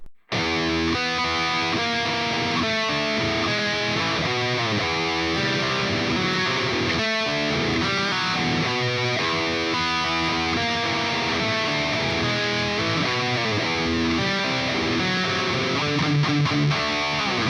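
A heavily distorted electric guitar plays the chorus of a song, with loud, steady chugging power chords that carry on without a break for the whole passage.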